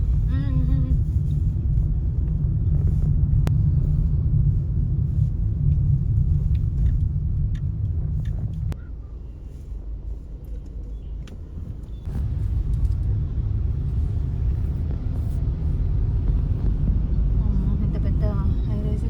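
Steady city road traffic outside high-rise apartments near an IKEA store, a continuous low rumble of passing cars and engines that dips briefly midway before swelling again, with no clear voices.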